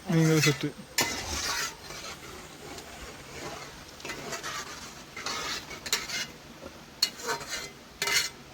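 A cooking pot of eggplant and tamarind fish-style curry, made without fish, is stirred with water added, giving loose scraping and sloshing with a few sharp clinks of a spoon against metal, close and moderately loud.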